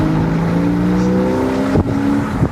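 A first-generation Porsche Boxster sports car pulls hard up a mountain road, its engine note loud and sustained with a rising drone from inside the cabin, then a brief shift-like break near the end; nobody speaks.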